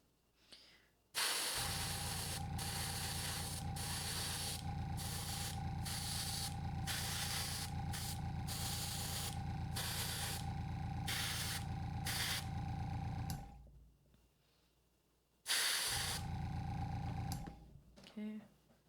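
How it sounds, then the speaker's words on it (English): A close airbrush sprays light gray paint in long steady hissing bursts, broken by short gaps, then a pause and one more brief spray. "And you just want to spray it at like random points."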